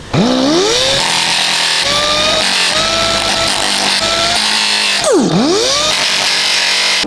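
Power sander working on a Land Cruiser 79 body panel, a loud, continuous whirring drone with shifting pitch as the tool loads and frees up, including a sharp spin-down and ramp back up midway.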